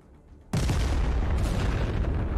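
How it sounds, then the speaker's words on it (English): HIMARS missile strikes detonating in combat footage: after a half-second of quiet, a sudden loud, sustained roar of explosion sound sets in and rumbles on without pause, with no voices. "Himars was close by, the missiles going off."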